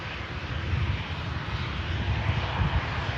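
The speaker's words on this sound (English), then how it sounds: "Ryanair in from Lisbon, just vacated." A Ryanair jet airliner arriving from Lisbon rumbles with a steady, broad engine roar. The sound is moderately loud and continuous throughout, with no talk over it.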